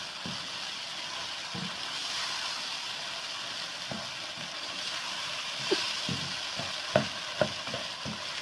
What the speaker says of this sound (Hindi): चलिए जी, अच्छे से हमारे कीमा मटर भून चुके।